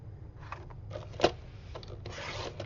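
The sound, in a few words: cutting 110-pound cardstock flanges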